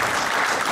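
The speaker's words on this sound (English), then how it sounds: "Big round of applause, guys," At a cricket banquet, a room full of people applauds the board of directors with dense, steady clapping that stays at an even level through a brief stretch.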